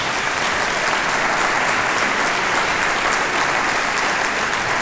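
Dense, sustained audience applause in a lecture hall at the Institute for Human Sciences in Vienna, even and loud from start to finish with no voices over it.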